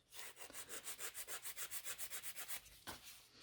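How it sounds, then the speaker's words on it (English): Nail file rubbing back and forth across a gel nail extension, fast even strokes about six per second in a close, quiet rasping rhythm that slows at the end. "filing this nail slower, more gentle."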